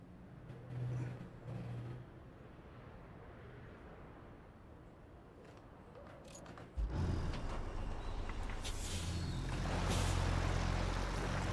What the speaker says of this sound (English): Our truck's still rolling.